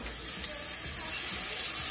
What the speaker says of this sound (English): Get your veggies. It's my favorite part, that sizzle.